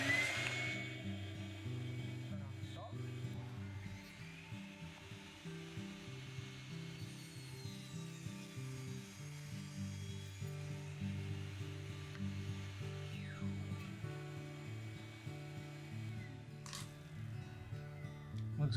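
A contractor table saw cutting wood with the dust collector running, a steady droning motor hum with faint rubbing and cutting texture throughout, fairly quiet and continuous.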